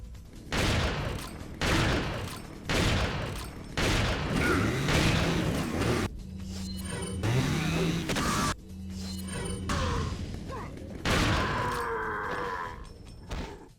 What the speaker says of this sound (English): the Striker required 4 shots to kill the first Salvador, and 6 shots to kill the second.